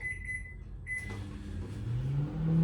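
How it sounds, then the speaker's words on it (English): A microwave oven is started and runs with a low steady hum, preceded by a brief high beep tone and the start-up click, quiet and close. "Straight in the microwave for a minute."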